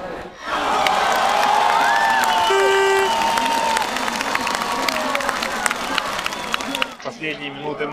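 A large crowd of football fans in Syktyvkar roars and cheers loudly and continuously as extra time begins in Russia's match against Croatia, with a commentator speaking over it and distant chanting near the end.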